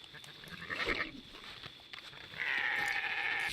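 Sheep bleating in a video game, with a short bleat early on and a longer, steady bleat near the end, both fairly close and clear, with no talking.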